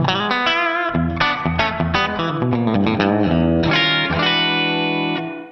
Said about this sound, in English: classic plate reverb